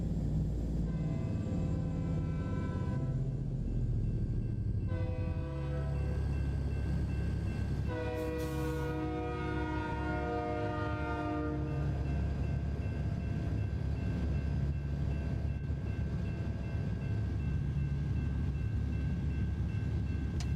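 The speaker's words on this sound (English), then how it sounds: "And if you're wondering why I'm not going anywhere, it's because of that train." A freight train rolls through a railroad crossing in American Truck Simulator, its horn sounding in sustained harmonic blasts over a steady, loud rumble of rail cars that continues throughout.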